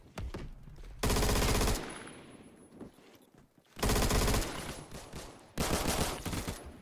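A stock A1 rifle fires in the Phantom Forces shooter game, rapid automatic bursts heard three times, each loud, dense and lasting under a second, separated by quieter gaps.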